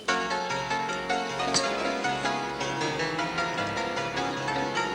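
A piano plays a steady tune with regular chords and a melody line, continuous and fairly loud, heard alone without talk.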